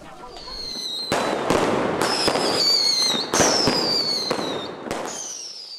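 Loud fireworks bursting in rapid succession, sharp cracks and booms overlapping with crackling tails and whistling streaks, continuous and close throughout.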